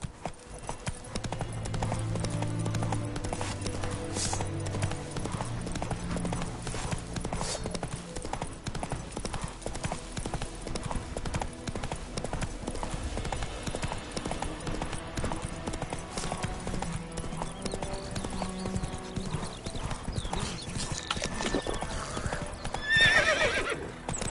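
Roach the horse trotting in The Witcher 3, its hooves clopping in an even, steady rhythm over game music, with clear neighs and whinnies near the end.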